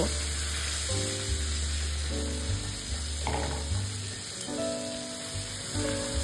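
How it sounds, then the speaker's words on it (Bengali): Eggplant slices fry in a covered pan over medium heat for begun posto, with a continuous close sizzle, a low tonal hum and occasional clicks or clatter, and no talking. "আমি মাঝারি আঁচে বেশ কিছুক্ষণের জন্য ঢেকে ঢেকে এক পাশ ভেজে নেব।"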